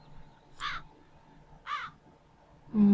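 Crow cawing in the video game The Dark Eye: Memoria, two distinct rasping caws about a second apart over a faint ambient hum, followed by a louder onset of another sound at the end.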